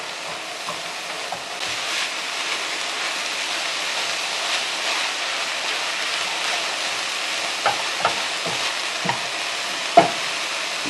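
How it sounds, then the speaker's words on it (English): Ground meat browns in a hot pan for burrito filling, giving a steady dense sizzle with occasional stirring clicks and scrapes, close and alone. "you're just going to completely brown that meat and get all those good flavors"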